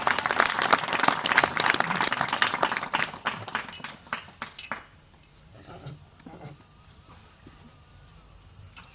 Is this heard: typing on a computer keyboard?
no